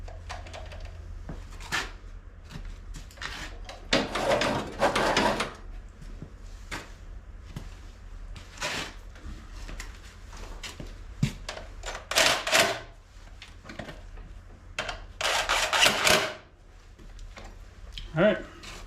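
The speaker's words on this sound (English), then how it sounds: "tighten the headlight up" Tightening the headlight on a Honda HS928 snowblower gives scattered close mechanical clicks, taps and short scraping bursts, with quiet gaps between them.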